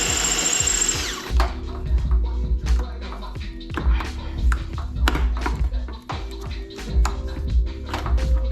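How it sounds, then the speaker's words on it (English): A power drill bores out fasteners on a car's windshield wiper linkage, cutting in repeated bursts with sharp pings and metallic clatter between runs, loud and close. "you guys saw I had to drill them out"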